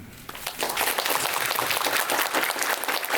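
A theatre audience applauds at the curtain call of the musical Werther, with dense, sustained clapping that fills the hall at a steady loudness and no voices on top.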